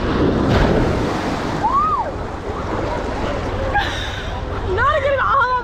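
Ocean waves roll in and wash up on a beach in steady broadband surf, with wind across the microphone and people talking and calling out over the water noise.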